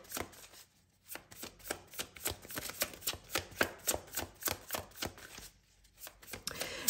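Tarot cards being shuffled and drawn, a rapid series of crisp papery flicks and riffles at close range, pausing briefly twice, with no talking.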